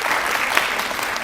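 An audience at a National Mathematics Day programme in India bursts into dense, steady clapping, close and loud throughout the brief moment, with no voices over it.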